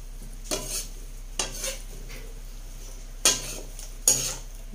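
Chicken adobo with broccoli being stirred in a pan, four separate scraping, clattering strokes spaced irregularly, near and moderately loud over a faint steady hiss, with no talking.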